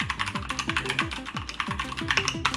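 Typing on a Keychron K2 mechanical keyboard with brown switches gives a steady stream of close, muted clacks at a brisk pace, with a low tonal background running underneath.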